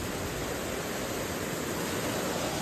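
Floodwater rushes past after heavy rain, a loud, unbroken roaring wash of water like a torrent, constant and close with no breaks.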